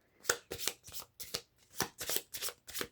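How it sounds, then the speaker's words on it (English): Quiet, close riffling of a deck of cards being shuffled, a quick series of papery bursts in an uneven rhythm. "take the character cards and add them to your clue cards and give them a good shuffle"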